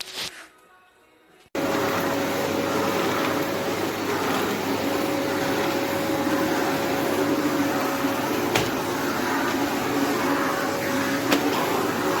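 After a brief quiet start, an Amazon Basics 15KC-71EU4 bagless cylinder vacuum cleaner switches on and runs with a steady, moderate whirring drone, continuous and unbroken, with no voices.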